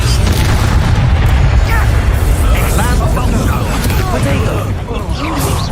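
An Expulso explosion spell blasts in Hogwarts Legacy amid loud, continuous combat noise, with a booming burst layered over dense game sound effects and character voices.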